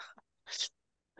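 A single sharp sneeze sounds close by, set between brief breathy sniffs in an otherwise quiet room.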